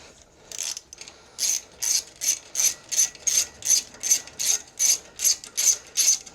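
A ratchet clicks in about fourteen evenly spaced strokes while backing out a hard-to-reach starter bolt on a Craftsman riding mower, close and crisp with no talking.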